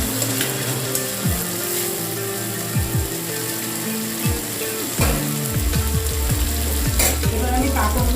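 Spice paste fries in oil in a pan for stuffed teasle gourd, crackling and sizzling steadily up close, punctuated by repeated scraping stirs.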